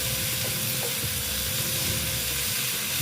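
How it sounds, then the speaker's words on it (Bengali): Chayote squash and potato sauté in oil with a loud, dense, continuous sizzle, close up and unbroken, with slight stirring movement beneath. "তেলটা এবার দিয়ে দিলাম দিয়ে ভালো মতন কষিয়ে নিচ্ছি"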